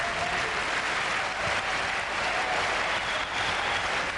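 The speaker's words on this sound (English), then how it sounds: "And listen to the crowd" Hometown tennis crowd in Frankfurt applauds Becker, a continuous, even wash of clapping from a large indoor arena audience, heard from a distance.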